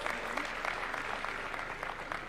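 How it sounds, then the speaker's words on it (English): Audience applause at the Beyond Vision 2030 event at KICC in Nairobi, a steady, dense wash of many hands clapping at moderate distance that holds evenly through the whole moment. "Give her a round of applause."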